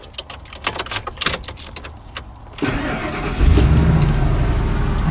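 A 2002 van starts up and settles into a low, steady idle through its circular super turbo-style muffler exhaust, following a stretch of close clicks and handling sounds.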